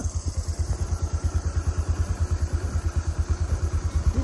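A motorcycle engine runs steadily and close by at full speed, its rapid rhythmic pulsing holding an even loudness throughout with no voices.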